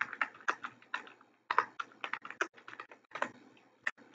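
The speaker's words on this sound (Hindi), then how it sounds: "नीचे क्लिक करें, कंट्रोल ई प्रेस करें।" Computer keyboard keys pressed to enter Ctrl+E in Excel: a close, brisk run of irregular plastic clicks and taps with short pauses, no voices.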